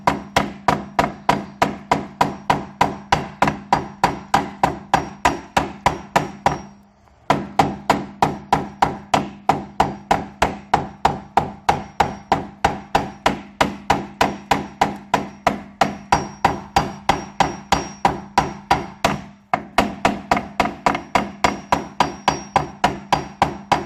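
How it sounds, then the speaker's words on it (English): A hammer taps steadily on aluminum, denting the metal down around the hole of a window crank. Dozens of sharp, evenly spaced close strikes come in long runs, broken by two short pauses. "take a hammer and just start tapping that through"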